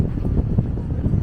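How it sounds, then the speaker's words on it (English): Wind buffets a microphone on a breezy beach promenade in Fuerteventura, making a steady low, rumbling roar that swells and dips unevenly for the whole moment, with no voices. "Oh, it's windy here."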